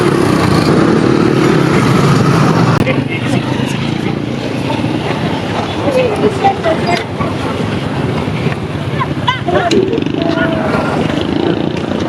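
A motorcycle engine runs steadily with a loud, continuous rumble throughout, while people talk over it.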